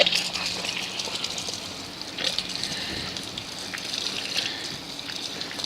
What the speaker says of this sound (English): And then we'll rinse.